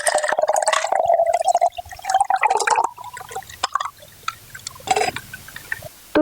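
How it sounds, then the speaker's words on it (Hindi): Ice water with a little ice still in it is poured from one glass into another: a bright, close pouring stream for about two seconds, then scattered drips and a few small splashes and clinks. "ये ग्लास का जो पानी है जिसमें अभी भी बर्फ है थोड़ी, वो मैं इस गिलास में डाल रही हूं।"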